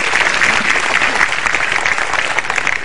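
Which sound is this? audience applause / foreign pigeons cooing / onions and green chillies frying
audience applause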